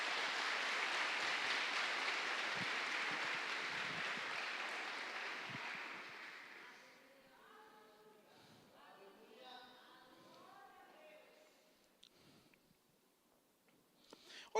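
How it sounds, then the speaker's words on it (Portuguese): Church audience giving a round of applause, a dense wash of clapping that fades out after several seconds, followed by quieter room sounds and faint voices. "Uma salva de palmas, esse pessoal é demais."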